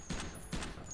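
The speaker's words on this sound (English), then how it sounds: "Now, this gun is our typical slow firing." Three evenly spaced gunshots from a slow-firing weapon in the Line of Defense online shooter game, each a short sharp report, fairly faint, with no talking.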